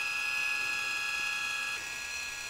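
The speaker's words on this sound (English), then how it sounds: "You can hear the motor working a little bit harder, but it's pulling that 5-pound up weight" A small motor turns a 3D printed plastic timing pulley while hoisting a five-pound weight, giving a steady close mechanical whir with a ratcheting gear texture that holds throughout, straining slightly, with no talk.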